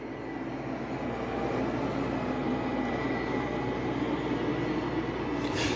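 A Roomba Plus 504 robot vacuum cleaning a dirty carpet gives a steady, even mechanical whir and brush rush. It runs near and constant with no pauses and no talk.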